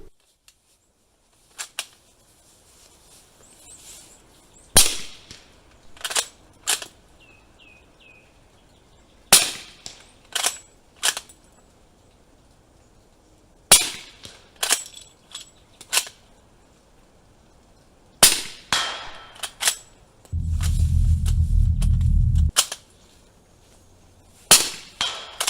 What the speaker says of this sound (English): let's head back to the range and take a few more shots